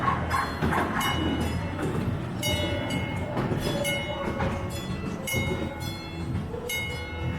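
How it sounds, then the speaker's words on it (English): Inside West Edmonton Mall, a train rolls steadily past with continuous rail rumble and clatter, bright tonal squeals and brief horn-like tones sounding over the crowded indoor hubbub. "Oh, we have a train coming."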